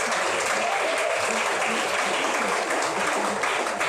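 An audience claps for a speaker at a virtual school alumni meetup, a dense, steady round of applause that fills the whole stretch at even loudness.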